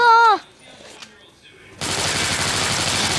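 Rapid automatic gunfire from the mobile zombie shooter game Dead Trigger erupts loud and sustained after a brief harmonic tone and a quiet pause, continuing steadily to the end.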